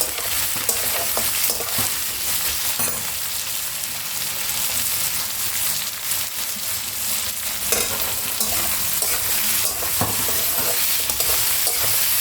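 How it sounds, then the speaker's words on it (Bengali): Onions sizzling and frying in a pan for an egg bhurji curry, a loud, steady crackle with occasional stirring scrapes and clinks throughout. "আরও কিছুক্ষণ ভাজবো যতক্ষণ না পেঁয়াজগুলো ভাজা হচ্ছে"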